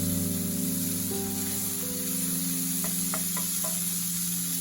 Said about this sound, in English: Just mix everything well together.